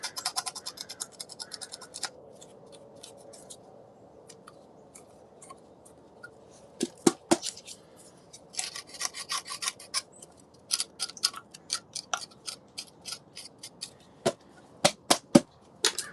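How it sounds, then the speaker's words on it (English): A hand tool scrapes a crust of hardened concrete off sculpture casting molds in a studio. The scratchy, rasping strokes come in uneven bursts with short quiet gaps, close and fairly crisp. "So I just scrape off the crust of concrete here."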